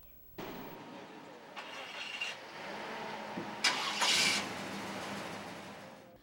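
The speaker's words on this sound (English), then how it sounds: "As safety crews start their engines" Safety crew vehicles at a Torrance Rose Parade float event have their engines started, with a sharp ignition burst near the start and several louder cranking bursts later, then steady motor rumble under background noise.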